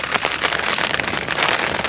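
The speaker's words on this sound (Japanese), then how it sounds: "まあ雨が降り続いてます" Steady rain falls outside at a campsite in Kyushu before dawn, a dense, even hiss of drops hitting surfaces that continues without a break, fairly loud and close.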